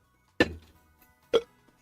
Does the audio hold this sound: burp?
yes